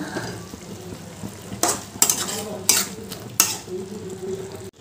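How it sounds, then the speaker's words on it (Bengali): Ghee and garam masala get stirred into a spicy prawn masala in a pan, with a low sizzle under several sharp spoon scrapes and clinks against the metal, close by. "এবার ঘি গরম মশলাটা ভালো করে মিশিয়ে নেব।"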